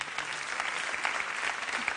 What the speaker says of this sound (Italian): Su, Nino e Brando, ancora, ancora di più, applauso.